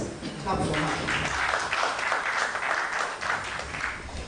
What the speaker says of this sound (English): Please let's clap for her.